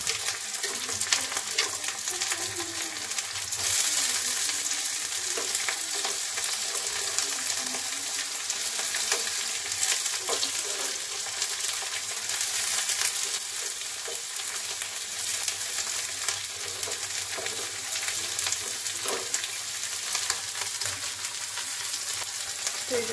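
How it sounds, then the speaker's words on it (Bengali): Ingredients for a simple pasta fry in a pan over lowered flame, giving a steady, close sizzle with occasional stirring clinks and scrapes that carries on without pause and with no talking. "তো এগুলো আমি এখন ফ্রাই করে নেব ভালো করে।"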